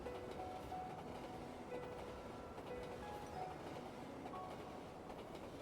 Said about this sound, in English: Hold on tight. The train is about to leave.